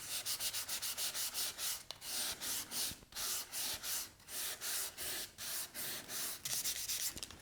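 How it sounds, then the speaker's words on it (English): Cherry plywood is lightly hand-sanded with 400 grit paper in steady back-and-forth strokes, a close, continuous scratchy rubbing with brief pauses between passes. "I'm going to give this surface a light sanding with 400 grit paper"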